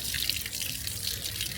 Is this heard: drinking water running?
yes